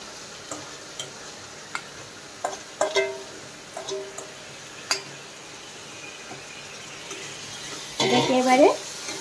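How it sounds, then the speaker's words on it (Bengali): Fried dal and soaked rice being stirred in a pan, giving scattered scrapes and clinks over a soft frying hiss, with a louder burst of stirring near the end. "এটাকে এবারে এইভাবে কিন্তু নাড়তে হবে, বেশিক্ষণ নয়, 2 মিনিট নাড়লেই হবে।"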